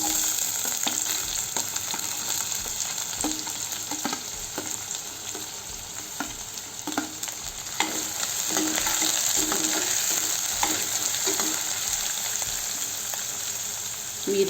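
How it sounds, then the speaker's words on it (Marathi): Chopped onions and cumin fry in hot oil over a low flame for paneer bhurji, giving a steady close sizzle broken by repeated scraping stirs throughout, with no talking. "कमी गॅसवरच फिरवायचं।"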